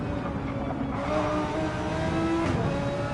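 A race car engine in a racing video game on the Sardegna B Reverse track revs hard and steadily, a loud continuous buzzing drone that climbs in pitch, with no talk over it.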